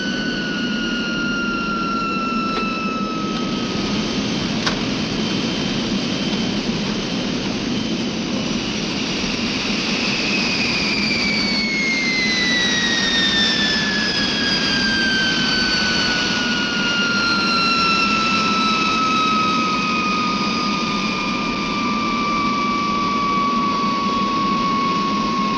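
A 1960s jet airliner comes in to land with flaps down, its engines roaring loud and steady throughout while a high whine slowly falls in pitch as power eases off.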